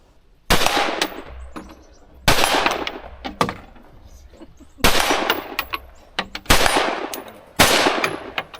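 Five loud, sharp rifle shots ring out at an outdoor shooting range in Austin, Texas, spaced irregularly about a second or two apart, each followed by a short ringing echo, with small clicks and handling noises in between.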